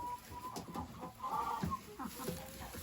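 A hen clucks softly in a backyard chicken coop, a few short, close clucks scattered across a quiet background with faint rustling.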